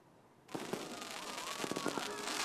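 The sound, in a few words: fireworks exploding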